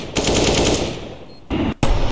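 Automatic gunfire in the video game CS:GO, a loud rapid burst of shots lasting about a second, then a short pause and another close burst.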